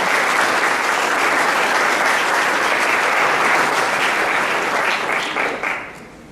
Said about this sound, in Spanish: Un fuerte aplauso para Karen Bernedo.